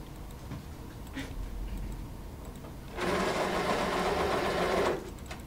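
An electric pencil sharpener grinds loudly for about two seconds in a quiet room, a short burst of buzzing motor noise.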